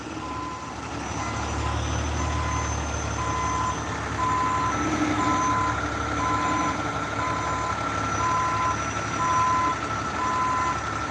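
A tow truck reverses at night, its backup alarm sounding a steady series of about ten evenly spaced beeps over the low rumble of a diesel engine idling nearby.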